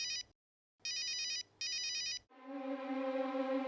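A telephone rings in two loud, clear bursts of bell-like trilling, with a short gap between them, then a steady, sustained tone takes over; no one speaks.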